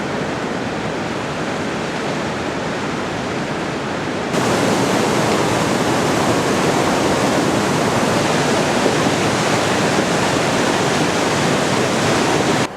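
River rushing beneath an old bridge on a trek in Nepal, a steady loud roar of flowing water that swells slightly partway through and continues unbroken with no voices.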